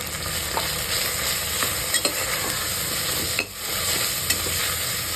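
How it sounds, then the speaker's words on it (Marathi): Tomatoes and onion with red chili powder sautéing in a pan for soybean pulao: a dense, constant sizzle close by, with scattered light scrapes and clicks from stirring and no voices. "टोमॅटो जरूर टाका तुम्ही आणि चांगलं परतून घ्यायचं मस्त लाल होऊ द्यायचं"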